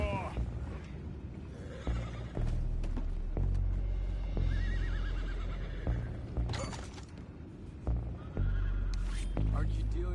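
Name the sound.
horses neighing in video game Red Dead Redemption 2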